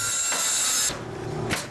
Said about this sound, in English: It's the sound of construction.